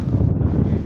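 Strong wind buffets the microphone at Jaffna Fort, a dense, continuous low rumble with steady loudness throughout the short moment, with no voices.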